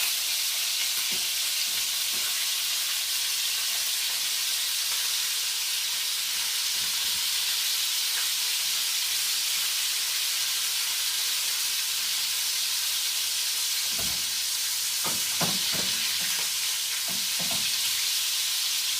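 Salt fish fries in a pan with a little oil, giving a steady close sizzle and hiss, broken by a few soft clunks and scrapes toward the end.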